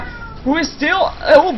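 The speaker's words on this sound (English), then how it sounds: "And sorry for the cat noise in the meantime" A house cat meows three times in quick succession, close and fairly loud, while someone talks over the cries.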